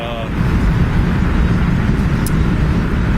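An old car is driven on a long road trip, with a continuous loud engine and road rumble heard from nearby for a few seconds.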